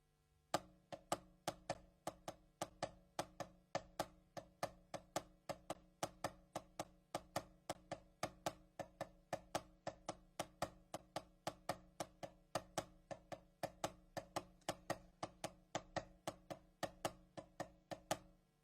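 Drumsticks tap a practice pad in a lilting long-short swing rhythm, crisp strokes repeating steadily at a slow tempo, no voices.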